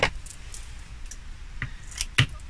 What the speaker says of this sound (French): je vais découper une partie